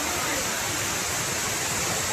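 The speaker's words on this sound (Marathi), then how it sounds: "दुसरा वॉटरफॉल आहे" Steady, loud roar of the Kumbharte waterfall, broadband rushing water filling the whole clip without a break, heard close by with no voices.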